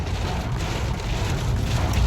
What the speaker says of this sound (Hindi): ऐसी मूसलाधार बारिश हो रही है